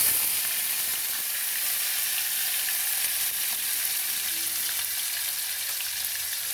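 Chopped onion frying in a pan, a loud, continuous hissing sizzle held close throughout, with no voices.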